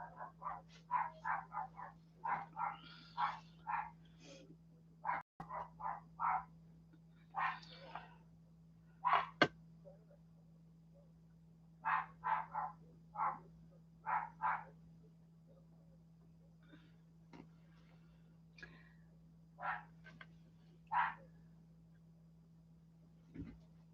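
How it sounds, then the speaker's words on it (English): Dogs barking indoors during a live craft sale, repeated short barks and yips in scattered bursts, moderately close, over a steady low hum, with no talk heard. "Sorry about the dogs, you guys."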